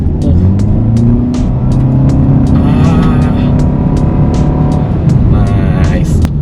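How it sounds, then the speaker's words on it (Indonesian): A Toyota Veloz Hybrid accelerates with a loud, continuous engine drone rising in pitch, heard from inside the cabin with people talking over it. "Oh, kita coba gas lagi ya sobat setir."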